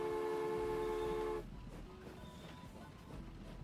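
A train's sustained horn toot in Transport Fever 2 that cuts off abruptly after about a second and a half, leaving a faint, low rolling rumble of rail movement afterward.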